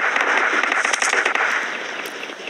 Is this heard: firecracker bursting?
yes